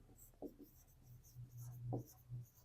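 Pen scratching across paper while a math exercise is worked out, a few short quiet strokes in an irregular rhythm, close up with no talking.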